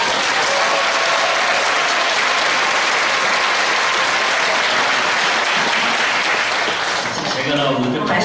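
A congregation at a police Christian mission praise gathering in Incheon claps loudly and continuously, a thick unbroken roar of hands with crowd noise mixed in, easing slightly near the end.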